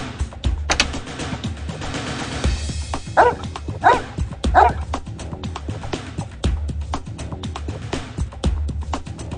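An Airedale terrier in a veterinary emergency video game barks in a few short bursts over a steady electronic background hum, moderately loud and close.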